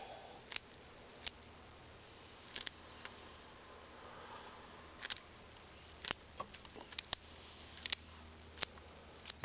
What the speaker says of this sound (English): So I've got my scissors, and we're just going to cut the roots